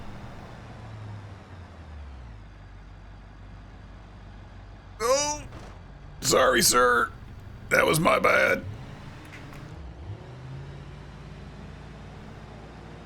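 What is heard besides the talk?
truck hauling liquid tanker driving in video game BeamNG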